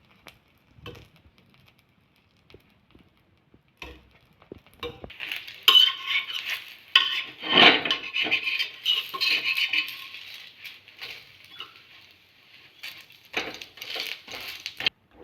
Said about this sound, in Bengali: নারকেলটা নেড়ে নেব।